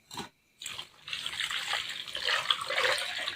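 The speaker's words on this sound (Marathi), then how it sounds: "आणि आता मी याच्यात पाणी टाकणार आहे" A short splash, then a steady stream of water pouring into a pot of semolina, continuing evenly at close range.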